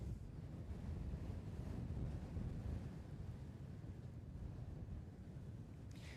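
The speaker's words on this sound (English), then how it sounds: "They did say the wind was going to get up" Wind buffets the microphone at Christchurch Airport at sunset in a steady, loud, low roar that barely eases across the whole stretch, with no voices.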